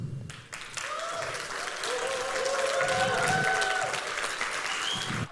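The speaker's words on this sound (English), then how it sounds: "Big round of applause. Keep it going, keep it going." An audience at an awards event applauds after a speech, with steady clapping throughout and a voice talking over it.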